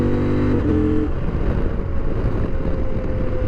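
A CFMOTO Ibex 800 T adventure motorcycle powered by a KTM 790 twin engine and fitted with a quickshifter, droning loud and steady with a short revving tone early on, under heavy wind rush.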